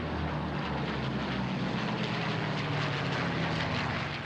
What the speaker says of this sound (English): Flying these aircraft in formation is not an easy task